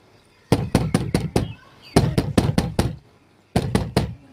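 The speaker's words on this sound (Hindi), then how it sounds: "कोयल दरवाजा खटखटाती है।" A cartoon cuckoo knocks on a wooden door in three loud, close bursts of rapid knocks, five or six sharp raps each, separated by short pauses, with no talk.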